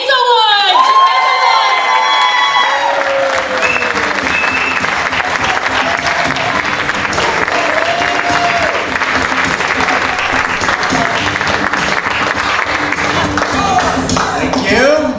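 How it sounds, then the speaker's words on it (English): A comedy club crowd at the Courthouse for the Arts applauding and cheering a comedian coming on stage, loud sustained clapping with whoops and shouts, an announcer's voice carrying over the start. "Give him a nice big round of applause."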